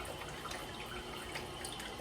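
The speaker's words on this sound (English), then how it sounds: "It's the water pressure that makes that nozzle come out" A Tushy Classic bidet nozzle sprays water in a steady, hissing rush that runs evenly throughout, close and moderately loud, with no voices.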